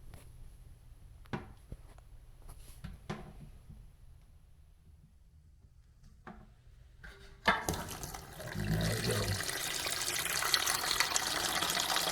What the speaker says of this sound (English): when I pull the valve out the top, the remaining water is going to rush out of the tank